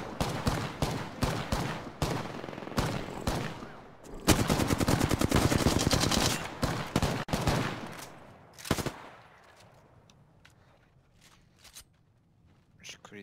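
Gunfire in the battle royale game Apex Legends comes as sharp single shots and then a long automatic burst, followed by a few scattered shots that fade into quieter game noise.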